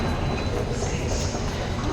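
A Delhi metro train rumbles at a station on a hot February day, with steady low-frequency rolling and track noise filling the scene continuously at close range.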